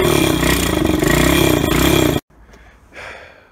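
A 125cc Chinese motorcycle engine running just after starting, a loud, steady idle with a rough, throbbing rhythm that cuts off abruptly partway through, leaving quieter handling noise.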